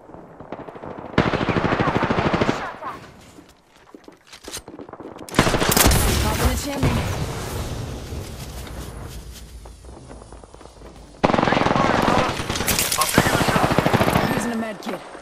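Automatic gunfire in the video game Apex Legends comes in loud, sustained bursts separated by quieter gaps, with rapid shots crowding together during each volley.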